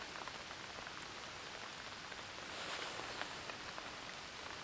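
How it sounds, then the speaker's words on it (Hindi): Steady rain patters on surfaces at night in an Uttarakhand forest campsite, a dense even hiss of close drops with no voices, swelling slightly louder midway through. "बारिश भी शुरू हो गई"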